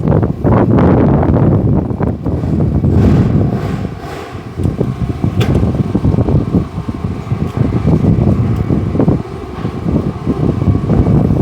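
Strong wind blowing outdoors near a wooden house in Thailand, a loud, continuous roar buffeting the microphone, with gusts rising and falling and leaves rustling, and no talk.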